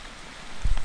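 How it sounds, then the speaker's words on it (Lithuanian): Rain falls on the Camino de Santiago in Spain during a bicycle ride, a soft, steady patter with a few louder close drops or taps near the end. "Aprimo šiek tiek lietus."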